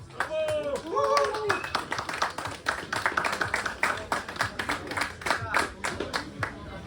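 Applause at an award ceremony for the winners of the MINI distance at a winter bike marathon in Otwock: a crowd claps steadily throughout, with voices and scattered talk mixed in at the start.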